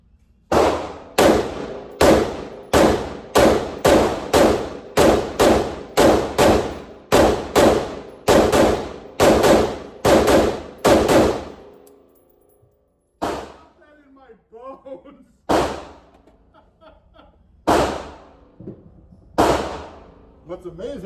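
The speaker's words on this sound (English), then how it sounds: "then I had a couple of friends, CJ and Kyle, shoot it to give their impressions." An AR-15 rifle fires a fast string of about twenty loud, evenly spaced shots, then a pause, then a few slower single shots with some faint voices between them.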